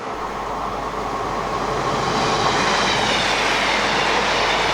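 A ScotRail stopping passenger train from Carlisle to Glasgow rumbles steadily past nearby in the Nith valley, wheels clattering and faintly squealing on the rails, loud and continuous throughout.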